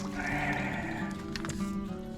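A donkey brays loudly and continuously, a harsh, wavering call that runs unbroken under a steady, full background.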